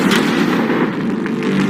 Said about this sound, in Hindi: पहला शॉट फायर करो।